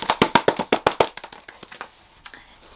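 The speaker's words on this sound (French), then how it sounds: "On applaudit." A small group of women clap hands at a home gathering, with about ten sharp claps in a quick run that thins into a few scattered, fading claps.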